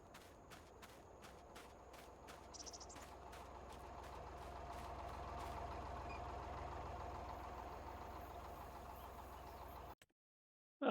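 A tractor engine idles in Farming Simulator 25 as a steady low rumble, with light periodic ticking clicks over it. The sound builds slightly and then cuts off abruptly near the end.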